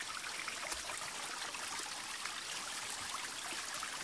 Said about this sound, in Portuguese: Essa água, quando desce lá pra baixo, desce numa força.